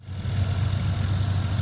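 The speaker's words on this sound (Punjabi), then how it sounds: "ਇੱਧਰ ਟਰੈਕਟਰ ਖੜ੍ਹਾ ਹੈ ਆਪਣਾ ਅਤੇ ਚੱਲ ਰਹੀ ਆ ਮਸ਼ੀਨ" Tractor engine idling steadily at night on a Punjab farm, a continuous low rumbling drone with slight vibration, close and fairly loud, with no talking.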